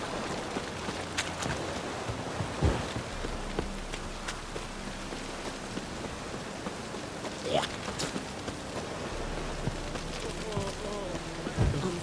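Steady rain falling in the video game The Witcher 3, a soft continuous patter of drops on surfaces with faint scattered splashes and occasional footstep-like knocks beneath it.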